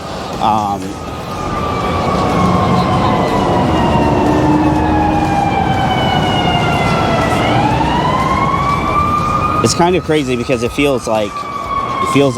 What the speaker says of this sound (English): there's an ambulance coming.